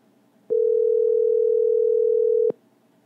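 One continuous electronic telephone tone sounds while a call is being placed, loud and clean, lasting about two seconds and then cutting off into quiet.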